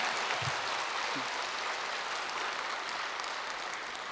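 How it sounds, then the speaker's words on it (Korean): An audience at a charity talk show gives a big round of applause for a Buddhist monk, a dense, even roar of clapping that holds steady for four seconds, with a brief low voice near the start. "우리 산웅 스님께 큰 박수를 좀 한번 보내주시면 좋겠습니다"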